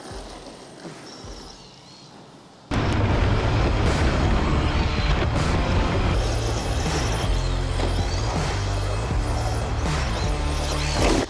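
An ARRMA Senton 4x2 brushed 1/10 scale RC truck drives off, a loud continuous motor whine with scrabbling and bumping bursts from the terrain. A quieter stretch of clicks and handling noise comes before it starts.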